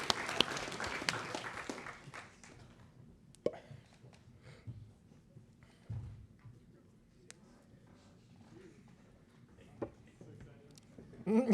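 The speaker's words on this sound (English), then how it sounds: "Please give him a round of applause" A crowd at a university student video game demo applauds as a volunteer comes up, clapping briefly for about two seconds before fading into scattered noise and murmuring.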